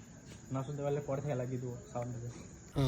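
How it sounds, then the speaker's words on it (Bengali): Crickets chirp at night at a resort, a thin steady high trill running faintly beneath louder nearby talking voices. "আপনারা ধ্যান দিয়ে শুনুন ঝিঝি পোকার আওয়াজ"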